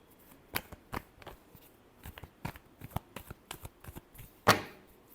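Close, quiet shuffling of tarot cards, a series of soft papery slaps and flicks in uneven rhythm, finished by one sharper snap near the end; no talk.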